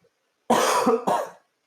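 Two close, harsh coughs in quick succession, the second shorter, with silence before and after.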